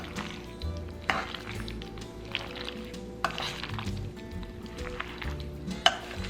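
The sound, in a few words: mixing marinated beef with cornstarch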